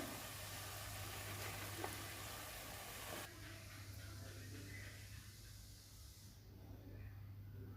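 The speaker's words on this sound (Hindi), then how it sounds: "अब मैंने इसमें बैगन डाल दिए और बैगन डाल के मुझे अच्छे से भूनना है" Eggplant frying with tomato in a pan for bharta, a steady soft hiss and sizzle that holds throughout, fairly quiet, with the frying sound thinning slightly partway through.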